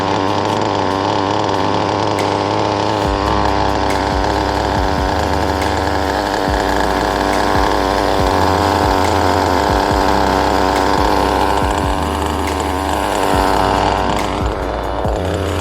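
A carbon fiber Nitro RS4 radio-controlled car's small nitro engine screams continuously at close range, a loud raspy buzz that rises and falls with throttle over about fifteen seconds, with no talking.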